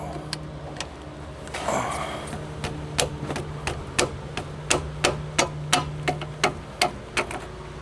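Hammer tapping a stuck cotter pin out of a vehicle's front-end ball joint, a steady series of sharp metallic strikes roughly twice a second, close and distinct over a low background hum.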